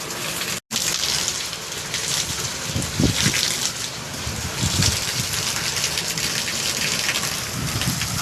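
Heavy monsoon rain pours down steadily around a house during a storm, a dense, loud, continuous roar of drops on surfaces with low rumbling swells throughout.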